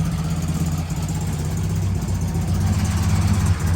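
A 1981 Puma GTI with a VW 1600 engine idles with a loose pulley, giving a steady, close, loud low rumble with a slightly uneven pulsing throb throughout and no talking.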